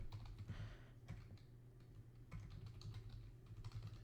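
Keys tapped on a computer keyboard while a web address goes into a browser, a quick run of light, fairly close clicks over a low steady room hum.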